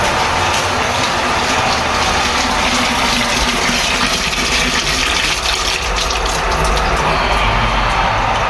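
Water gushing from a faucet fed by a shallow well water pump, a loud, steady rushing flow with constant hiss and low pump rumble beneath, close and uninterrupted.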